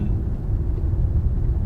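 Jaguar XE with the Ingenium diesel engine running, a steady low rumble with no distinct revving, heard alone as a constant deep drone.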